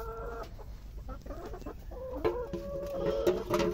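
Hens cluck and murmur near an egg-laying nest in a farmyard chicken coop, soft irregular calls rising toward the end, close by with no talk.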